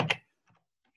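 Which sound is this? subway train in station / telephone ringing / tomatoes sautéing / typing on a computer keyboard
typing on a computer keyboard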